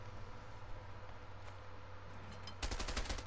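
Automatic gunfire in the video game A Way Out opens suddenly near the end as a fast, loud burst of repeated shots over a steady low background hum.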